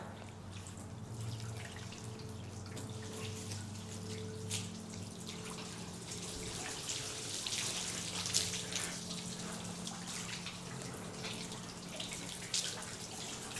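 Steady running water floods and splashes continuously across a car body panel, with scattered drips and a low mechanical hum underneath throughout.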